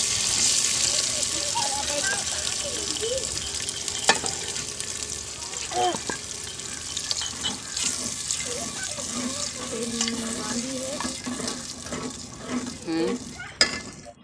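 Eggs fry in a pan of cooked masala with a steady, close sizzle that runs throughout, broken by occasional stirring scrapes and clatters, while a voice and other sounds from the room come through faintly underneath.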